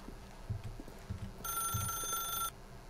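Telephone ringing in the game The Stanley Parable, a bright electronic ring lasting about a second over quiet low thumps and ambience, fairly faint overall.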